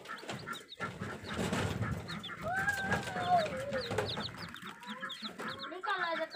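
Laying hens cluck and squawk nearby in a backyard coop, with several overlapping calls and short rising cries over faint background activity.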